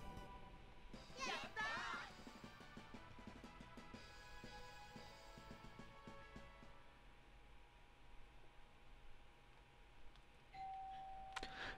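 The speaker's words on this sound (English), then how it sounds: "We'll see if they ring the doorbell again." A doorbell chimes indoors in a quiet room, a bright ring near the start and another short tone near the end, faint overall, with low voices and game sounds in the background.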